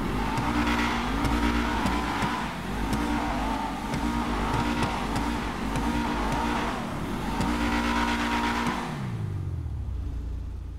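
A Debussy Rapid GT sports car in Grand Theft Auto Online roars as it accelerates and revs loudly and continuously, shifting through gears, then winds down near the end.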